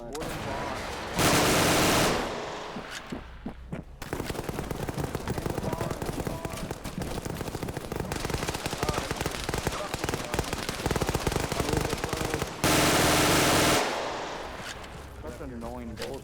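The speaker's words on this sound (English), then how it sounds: "Liru's shooting us with a grenade." Sustained automatic gunfire and heavy bursts in an Arma 3 World War II battle, loud and dense throughout with brief louder blasts, while voices talk over the shooting.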